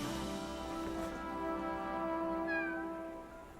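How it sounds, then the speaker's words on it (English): A cat meows in the anime MMORPG Blue Protocol: Star Resonance, a drawn-out tonal mew and then a short rising second call, fairly faint over low game ambience. "The cat is cute."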